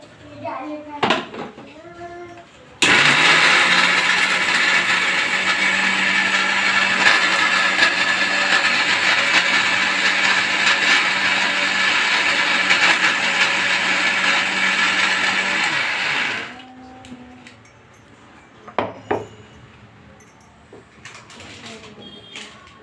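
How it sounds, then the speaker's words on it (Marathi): A mixer grinder whirs loudly and steadily for about fourteen seconds grinding leftover chapati into churma, a harsh motor roar that starts and stops abruptly, with clattering and brief voices around it. "आणि हे सर्व मिक्सरमधून काढायचं"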